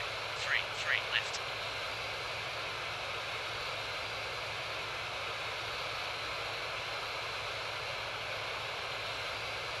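A Korean Air Boeing 777-200 airliner taxis toward the runway, heard as a constant broadband engine hiss and rumble from inside the cabin, with a few brief chime-like tones near the start.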